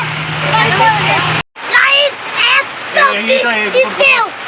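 Steady rain falls throughout, a continuous broadband hiss during an outing by toto (e-rickshaw) around Gobardanga, mostly under people talking, with a brief dropout midway.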